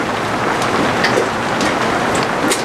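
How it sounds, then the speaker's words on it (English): Rain falling on a camping tent at night, a steady, dense patter that stays loud and even throughout with no voices. "And it's raining."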